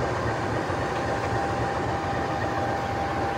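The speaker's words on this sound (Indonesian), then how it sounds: "Langsiran CC206 tertahan sinyal masuk stasiun Jatinegara" A CC206 diesel locomotive sits shunting, held at the entry signal near Jatinegara station, its engine giving off a constant, even rumble and drone close by with no break.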